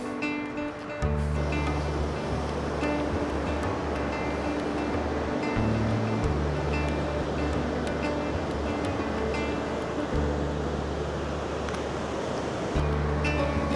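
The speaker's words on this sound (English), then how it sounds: "Just another stunning waterfall, North Shore of Minnesota." Steady roaring rush of falling water at the Temperance River Gorge on Minnesota's North Shore, loud and continuous throughout with a broad, surf-like wash and no talking.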